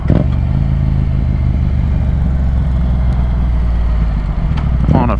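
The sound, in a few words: motor scooter riding past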